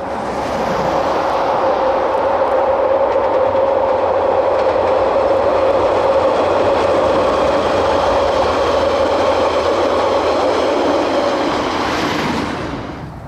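A Dunedin Railways Southerner train runs through Hinds toward Ashburton, a loud steady rumble of wheels and carriages with a sustained tonal hum, close and continuous throughout, fading slightly at the end.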